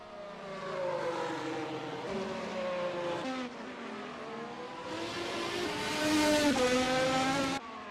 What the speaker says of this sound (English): James Shorter, number 10 car, back in the running of things.